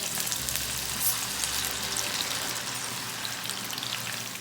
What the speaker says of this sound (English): directly going to add this fries into this hot oil